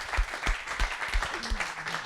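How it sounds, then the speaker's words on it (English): An audience applauds after a panel discussion, steady dense clapping throughout with no gaps, moderately loud and filling the room. "Join me in giving a round of applause to these guys"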